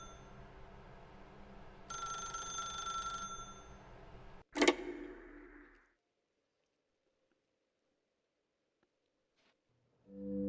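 Telephone ringing in the game The Stanley Parable, an old-style bell ring that sounds for a couple of seconds over a low hum, then a loud clunk and a fade into near silence.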